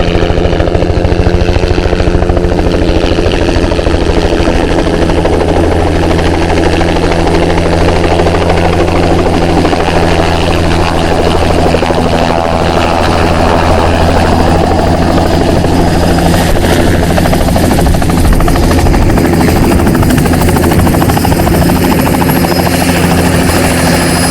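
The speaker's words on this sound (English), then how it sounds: "Got a chopper coming in." A helicopter approaches over open mountain meadows in Kakwa Provincial Park, its loud, steady rotor thump and turbine whine filling the scene throughout, growing close and dominant with no voices.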